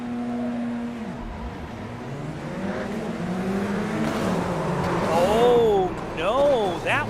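A Radical race car engine, heard onboard at Montreal, revs and climbs through the gears, its pitch rising and dropping with each shift as the engine grows louder. A commentator talks over it.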